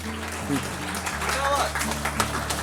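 A poetry gathering audience at a national kavi sammelan and book launch breaks into applause, scattered clapping rising under a speaking voice and a low steady hum.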